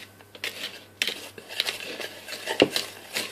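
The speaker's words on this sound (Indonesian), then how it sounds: "Kita aduk hingga rata." A spoon stirs dry chocolate cake ingredients in a bowl: sugar, salt, baking powder and cocoa powder. It makes soft, quiet scraping and light clinks against the bowl in an irregular rhythm, close by.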